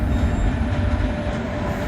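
A train rolls past on the rails close by, a steady loud rumble of wheels and cars with no voices over it.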